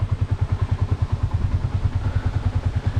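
A motorcycle on a muddy rural road in the provinces chugs with a steady, rapid low thumping, like an idling engine, close by with no talk over it.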